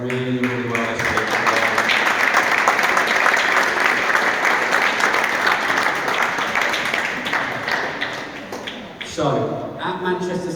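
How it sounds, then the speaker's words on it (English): An audience applauding football players at a Manchester City football development programme graduation: sustained, dense clapping filling the room for several seconds, then fading before a voice speaks near the end. "The players really deserve your round of applause."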